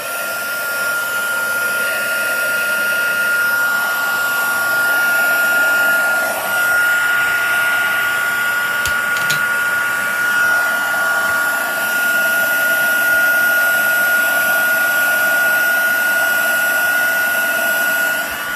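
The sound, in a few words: heat embossing tool heating embossing powder on gift tag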